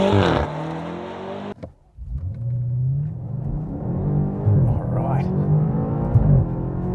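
BMW M8 Competition launching hard from a standstill at traffic lights, a brief pause then a loud, rising engine roar that builds through gear changes, close by and continuous for several seconds.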